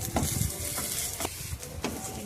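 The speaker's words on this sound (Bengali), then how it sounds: "বেগুনে নুন হলুদ মাখিয়ে বেগুনটা ভেজে নেব" Eggplant rubbed with salt and turmeric fries in hot oil with a dense, close sizzle, broken by a few spatula scrapes and taps against the pan.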